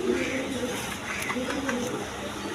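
Pigeons cooing softly nearby as a female breeding pigeon is let loose, low repeated coos over a steady background hum, with a few brief flutters and clicks.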